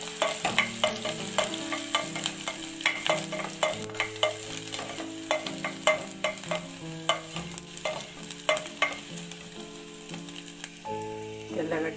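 Green chillies frying in oil for Ramadan ash ganji, a steady close sizzle broken by frequent clattering stirs and scrapes of a utensil against the pan, with background music-like tones running throughout.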